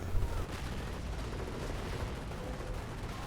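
Video game battle in which infantry concentrate fire on a damaged Panzer IV tank: a dense, continuous rattle of gunfire and distant blasts, with a heavier burst near the start, muffled and mid-distance.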